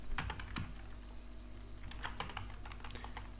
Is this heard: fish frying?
no